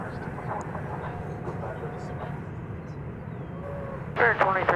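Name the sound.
airplane landing at DFW Airport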